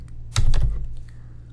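Computer keyboard keys pressed in a quick burst of a few clicks while entering commands in an IBM i SEU source editor, close and clear with no talk.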